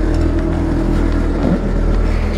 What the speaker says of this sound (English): you can hear the air compressors come back on